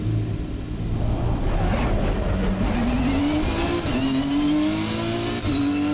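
Race car engine in Assetto Corsa Competizione on the Nordschleife, loud and close, holding a steady high drone as revs climb through gear changes, with a faint tire squeal.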